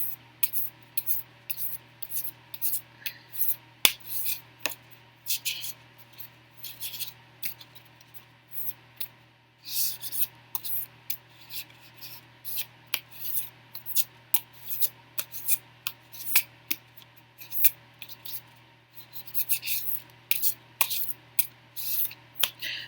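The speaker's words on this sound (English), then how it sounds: "Let's give it a last shuffle here." A deck of tarot cards is shuffled close up in rapid, crisp bursts of riffling and sliding, the flurries repeating steadily with short pauses between them.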